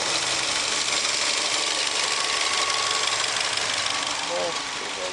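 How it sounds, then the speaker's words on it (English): A TM Holden Barina with a 1.6-litre F16D4 engine idling at an auto parts yard, a steady close mechanical hum with light ticking, running evenly without revving. "There's our engine ticking away there. F16D4 this one."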